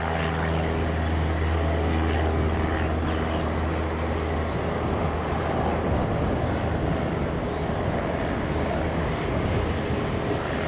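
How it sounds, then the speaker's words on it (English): A small Cessna light aircraft lifts off at Leeds Bradford Airport, its propeller engine a steady, droning roar holding even and continuous for the whole stretch, heard from a distance with no voices. "Little Cessna just getting airborne"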